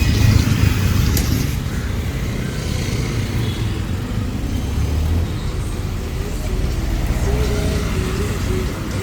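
Busy road traffic beside a bus stand on a rainy day, a dense continuous wash of car, bus and motorcycle engines and tyre noise at moderate distance, with a passing horn-like tone near the end.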